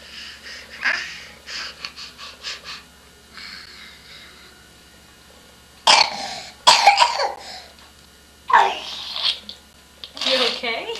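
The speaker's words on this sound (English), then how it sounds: "You look like an old man with smoker's cough." A child coughs in a series of harsh, hacking bursts with raspy breathing and throat-clearing in between. Loud coughs cluster near the middle and the end, and an adult talks softly in the early part.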